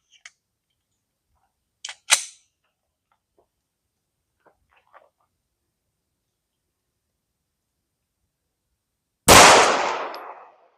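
A Glock 19 pistol with its OEM barrel fires a single FMJ round, one sharp loud close-range blast with a short decaying tail, preceded by a few faint clicks and handling noises.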